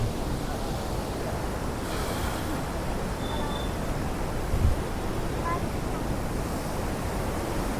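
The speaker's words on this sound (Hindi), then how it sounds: "देखिए पानी का बहाव देखिए" The Yamuna river flows at Wazirabad as a broad, steady rush of water with a constant noisy wash, heard close and without pause, with a brief faint tone partway through.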